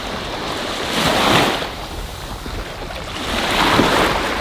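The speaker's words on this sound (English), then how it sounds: "This is Kamala Beach, which is also a very popular beach in Phuket." Surf rolling onto Kamala Beach in Phuket, with two broad swells of breaking waves washing in over a steady background roar, moderately loud and close, with no voices.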